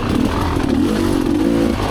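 Rieju Ranger motorcycle on a narrow single-track dirt trail at Tin Cup Springs, its engine droning steadily and close with a constant mid-pitched hum, slight throttle wavering and faint rattling clatter throughout.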